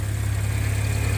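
Audi A6 3.0T engine with a modified airbox idling from the engine bay, a steady low droning hum with a constant even pulse and no revving.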